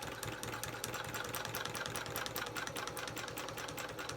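A domestic sewing machine basting fabric on a quilting frame, running in a steady, continuous mechanical whir with rapid needle ticking throughout, fairly loud and close with no talking.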